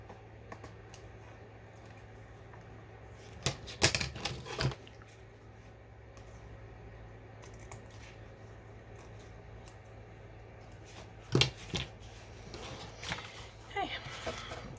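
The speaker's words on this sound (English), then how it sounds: "then I'm going to cut these bits off" Scissors cutting bits of recycled material for a handmade journal, a few short close snips in two brief clusters over a quiet, steady room hum.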